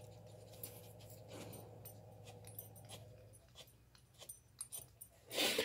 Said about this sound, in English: That's my dog, Roscoe.